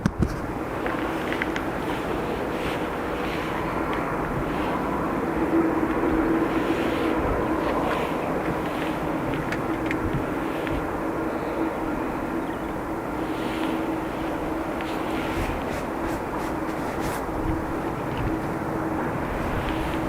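An American Airlines jet takes off from runway 10R at Dublin Airport, its engines a broad, continuous roar that holds steady and loud for the full stretch, with no talk over it.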